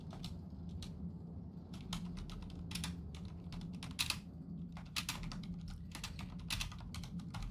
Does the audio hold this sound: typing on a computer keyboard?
yes